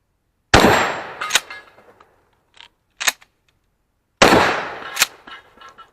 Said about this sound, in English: So the 590 shockwave in 12 gauge.